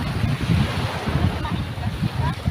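Loud surf churns steadily with low rumbling wash and wind noise, close and continuous.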